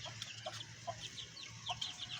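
A hen clucking while pecking at grain beside chicks, with short soft calls scattered over about two seconds against a low steady hum.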